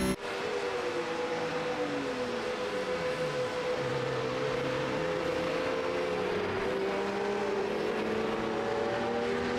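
Race cars lap Watkins Glen in a sim racing game, several engines droning and whining together at a sustained high pitch, with tones sliding down and up as they shift and pass.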